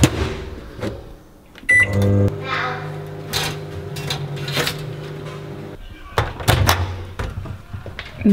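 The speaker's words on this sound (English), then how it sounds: "Microwave." A microwave oven hums steadily after door clicks and knocks, with beeps and clattering kitchen noises and a voice speaking now and then.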